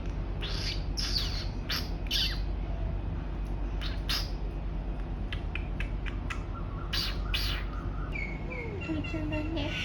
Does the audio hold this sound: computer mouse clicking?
no